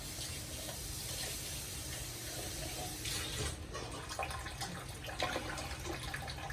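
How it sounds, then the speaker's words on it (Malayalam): Ground coconut paste thinned with a little water poured into a pan of popped mustard seeds for a Kerala fish curry, giving a steady broadband sizzle and bubbling that swells near the end, with no voices. "കടുക് നന്നായിട്ട് പൊട്ടിയിട്ടുണ്ട് ഇനി അരച്ച് അരപ്പ് ഒഴിച്ചു കൊടുക്കാം"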